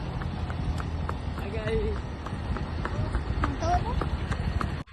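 A mare's hooves clip-clop at a walking pace amid busy outdoor noise and chatter, with a brief whistle-like tone in the middle.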